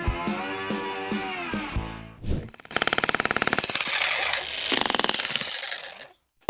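A Vevor demolition hammer pounds concrete and brick in a fast, loud rapid-fire burst of blows, with mechanical clatter before and after the hammering run.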